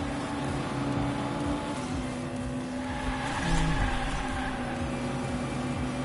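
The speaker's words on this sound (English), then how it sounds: "There's a monster truck noise." A large monster truck engine in a Hot Wheels video game drones and revs steadily, its tone rising and falling slightly, with a rough, continuous mechanical rumble throughout.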